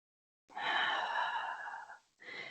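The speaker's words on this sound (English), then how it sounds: "Let's take one breath here." A long, deep breath taken while holding a forward-folding vinyasa yoga pose: a steady breathy rush lasting about a second and a half, close and clear, then a brief pause and a second softer breath.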